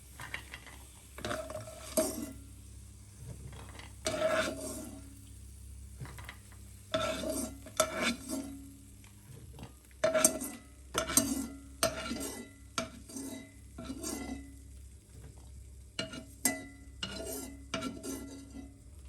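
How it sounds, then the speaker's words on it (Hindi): Fried nuts are scooped out of a pan onto a plate with a metal spoon. Scattered scraping and clinking come in short bursts, separated by quiet pauses, fairly close and moderately soft. "अब हम इनको निकालते हैं बाहर प्लेट में।"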